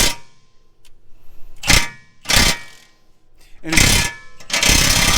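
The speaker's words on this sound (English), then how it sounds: "So he's putting the impact on that one since it's welded." A pneumatic impact wrench hammers at welded bolts on a 2022 Platinum truck's radius arm during a BDS coil-over lift install, coming in several loud rattling bursts separated by pauses, with a brief word spoken.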